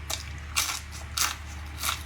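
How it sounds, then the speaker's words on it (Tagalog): Crispy chicken popcorn in honey garlic sauce is bitten three times at an even pace, each bite a sharp, close crunch over a low steady hum. "Sobrang lutong pa nito at napaka-juicy."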